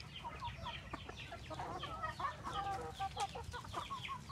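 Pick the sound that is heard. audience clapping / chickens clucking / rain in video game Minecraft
chickens clucking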